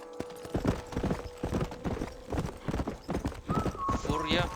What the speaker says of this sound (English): No sé cómo vamos a llamar a este caballo.